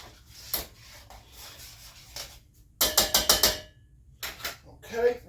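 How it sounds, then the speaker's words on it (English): Salted chicken roulade ingredients being mixed make irregular, close scraping and rubbing strokes, with a tight run of rapid bursts in the middle and quiet gaps between. "Give this a good mix"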